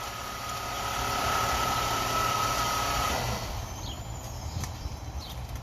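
A Ford Mustang engine idles with a steady low rumble and hum, loud and close for about three seconds before dropping to a quieter, rougher murmur with a few faint clicks.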